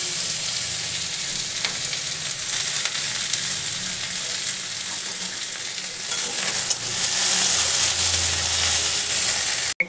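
Onion fries in oil with panch phoron, the five-spice mix, for a potato charchari. A loud, dense, continuous sizzle holds steady throughout, then cuts off abruptly at the end.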